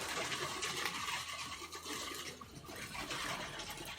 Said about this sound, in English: That sounds like someone turned on the shower faucet.